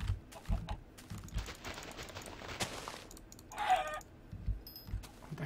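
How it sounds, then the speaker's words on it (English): Chickens clucking in the Minecraft video game, short game-sound bursts scattered through the clip amid keyboard typing and other in-game noises, moderately faint. "let's go kill us some more chickens"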